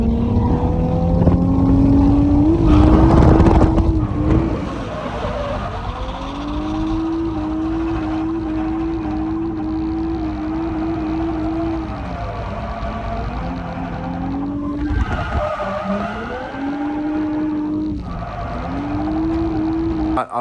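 A Nissan 350Z drift car with a Wisefab front end, its engine revving and droning steadily with rising and falling pitch sweeps, loud and sustained, with a brief burst of harsher tyre and engine noise near the start.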